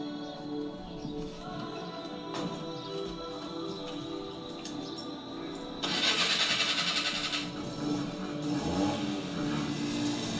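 A Maruti 800 car engine cranks and starts, a steady mid-pitched engine running throughout and growing louder with a revving surge partway through, heard close with no talk.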